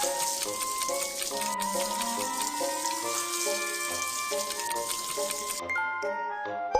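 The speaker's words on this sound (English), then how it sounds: "Rinse with clean water to cool the wound." Water from a tap runs steadily to rinse a scalded arm in a Baby Bus panda first-aid game, bright trickling under a continuous layer of cheerful game music, with no talking.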